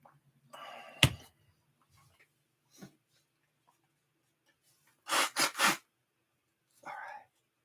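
A single sharp sneeze bursts out, followed by a quick run of three loud sneezing or snorting bursts later, with quiet rustling in between.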